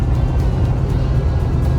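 A truck towing a Sundowner XTRA Series 44-foot gooseneck enclosed double car trailer produces a steady low road rumble and engine drone while cruising, heard from inside without talk.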